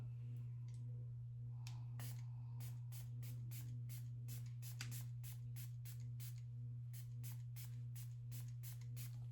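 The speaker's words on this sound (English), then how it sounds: "we're going to go ahead and we're going to spray some of this" Quick bursts of spray from a pump bottle misting a face, about twenty short hisses in a fairly steady rhythm over a low constant hum.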